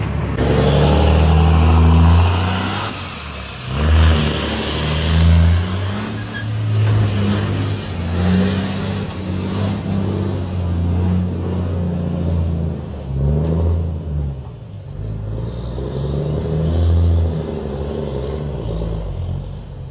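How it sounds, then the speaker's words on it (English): A weighted-down truck churns through mud with a loud, sustained engine roar that swells and revs continuously throughout, close and dominant with no voices. "Get some weight on the truck so I can get through the mud"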